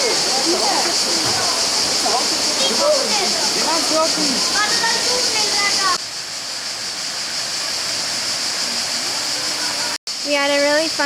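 Candalla Falls, a waterfall in the wooded mountains of Tuscany, gives a steady loud rush of falling water throughout, with voices talking over it and birdsong near the end.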